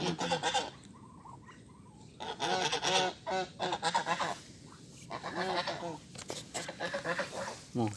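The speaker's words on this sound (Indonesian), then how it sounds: "Pasukan entok banyak banget" A large flock of Muscovy ducks gathered near water call repeatedly in loud, overlapping honking bursts that continue throughout, close by, with no speech.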